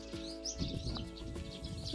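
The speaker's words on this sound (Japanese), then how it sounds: "すごい、鳥の声もいい。" Birds chirp and tweet in a sunny sunflower field in Yomitan, Okinawa, light scattered calls over a steady low background hum, with no talk.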